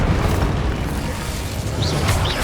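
The Incendio fire spell blasting in Hogwarts Legacy, a loud, sustained booming roar of flame that fills the clip, with faint higher whooshes near the end.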